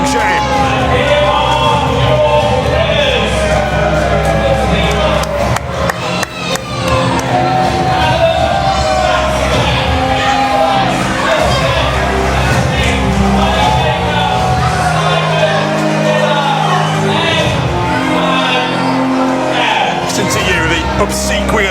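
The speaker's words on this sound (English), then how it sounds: "Obsequious applause for Simon Miller and Adam Maxted" Wrestling arena crowd applauding and cheering after a tag-team match, a dense, steady roar of claps and shouts throughout, with commentators talking over it.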